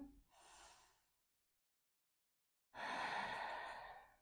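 Deep breathing during a yoga hip flow: a soft inhale, a pause of silence, then a long, fuller exhale, close and alone without talk.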